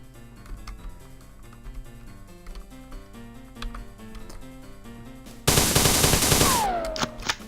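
Rapid automatic gunfire in the Marathon shooter game, one loud burst of about two seconds breaking over quieter rhythmic game music.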